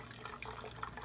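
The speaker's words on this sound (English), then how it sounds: "So go ahead and pour in the water." Water pours into a SAKI pour-over coffee maker with dripper and carafe, a soft continuous splashing trickle heard close up with no speech.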